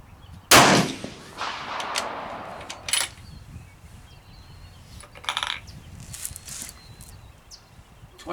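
Gunshots crack out at an outdoor shooting range while someone aims at a target. One loud, close report ends in a short rumbling tail, then a second sharper shot follows, with faint metallic clinks and movement after.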